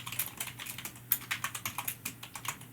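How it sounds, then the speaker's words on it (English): Rapid clicky typing on a computer keyboard at an esports event, a quick irregular run of keystrokes close by with a few louder taps, no speech. "Don't you hear the typing?"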